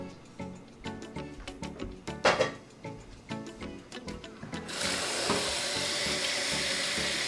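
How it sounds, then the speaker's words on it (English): Cooked noodles for Vietnamese bún riêu handled in a pot with clinking and knocking, then a steady rush of running tap water starts near the end, close by. "Rinse your noodles so that they cool down and stop cooking."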